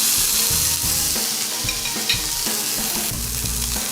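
Boneless ribeye steaks sear in a hot cast iron pan with loud, steady sizzling, close up, with a few bumps and scrapes as the meat is moved.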